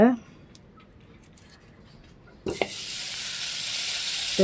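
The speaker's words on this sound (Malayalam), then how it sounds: "ഈ ചീനച്ചട്ടിയിലോട്ട് ശകലം ബട്ടർ ഇട്ടിട്ട് അതൊന്ന് വഴറ്റിയെടുക്കും" Amul garlic and herb butter hits a hot wok and bursts into a loud, steady sizzle about halfway through, following a quieter stretch with a brief voice at the start.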